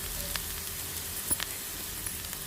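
Ginger and onion frying in a pan until their edges turn reddish, being cooked for a cauliflower soup: a soft, steady sizzle with a few faint clicks and stirring touches, quiet and continuous, no voices.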